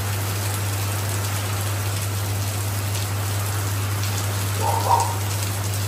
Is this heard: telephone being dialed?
no